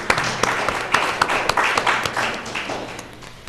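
Applause from an audience at a live-broadcast school district candidates event, a moderate, fairly steady patter of clapping with a few sharper claps, easing slightly toward the end.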